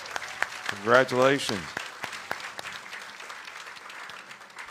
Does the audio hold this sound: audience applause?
yes